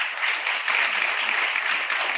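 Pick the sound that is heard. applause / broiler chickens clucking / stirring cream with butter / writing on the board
applause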